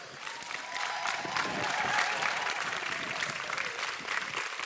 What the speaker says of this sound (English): I'm sure that the graduates would want to acknowledge their support with a hearty round of applause.